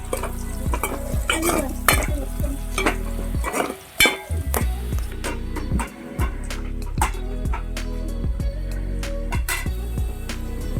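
Curry leaves and onions fry in oil for a fish curry while a spoon scrapes and clinks against the pan again and again, loud and close, over a continuous sizzle.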